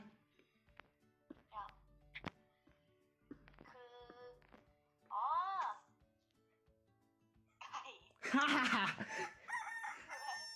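A person imitates a rooster crowing with drawn-out vocal calls during a Minecraft drawing and guessing game, surrounded by casual chatter and laughter among players.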